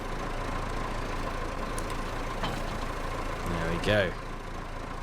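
Tractor engine in Farming Simulator 22 running at a steady low idle, a continuous mid-pitched hum throughout, with a person talking briefly over it.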